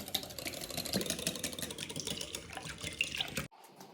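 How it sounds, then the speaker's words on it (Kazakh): Water pours into a bowl of beaten eggs and salt as a continuous close splashing stream, ending abruptly near the end and leaving a quiet hiss, with no speech. "Жақсылап араластырып, үстіне 250 мг су қосамыз"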